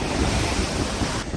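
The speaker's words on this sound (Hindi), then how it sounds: "बहुत तेज़ लहरें यहाँ पर आ रही हैं।" Strong sea waves crash and roar continuously at Manora beach in the rain, loud and close, with heavy wind noise buffeting the microphone throughout.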